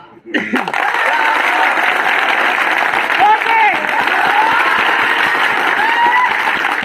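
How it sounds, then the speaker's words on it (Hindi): Louder audience clapping at a talk by an army physical instructor, a full, sustained burst of applause that swells after a brief start, with some chuckles and a voice faintly audible beneath. "अरे तेज ताली बजा थोड़ा"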